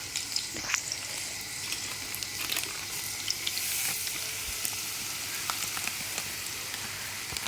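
Spices spit and crackle in hot oil on a low gas flame, made to sputter by leftover water, a continuous close sizzle with scattered sharp pops throughout.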